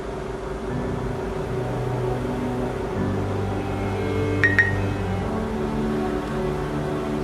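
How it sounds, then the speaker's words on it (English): A short double electronic beep from a water-quality sensor device flagging dirty water, sounding once over a steady background hum and motor drone. "So now you hear the notification just now, right?"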